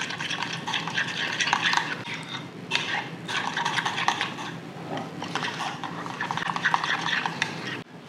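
Honey mustard sauce with Dijon mustard, lemon juice and barbecue sauce stirred in a bowl, a close, busy clatter of utensil scraping and clicking in uneven bursts, with no talking.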